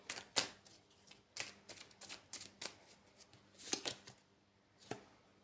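Tarot cards are shuffled and drawn in soft, quiet bursts of riffling and sharp flicks, irregular crisp snaps spread across several seconds with no talking.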